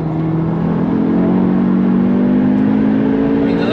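A 528 hp Audi S3 on the Nürburgring accelerates with a steady, loud engine drone that rises gradually in pitch, heard close and continuous without a break.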